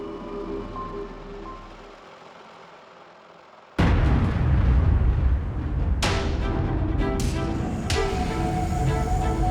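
An avalanche control gun fires from the top of a snowy mountain gully: after a quiet stretch, a sudden loud boom erupts, followed by a sustained rumbling roar with further sharp cracks and blasts echoing across the slope.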